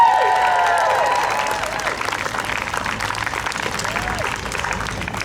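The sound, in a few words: crowd cheering and applauding at rally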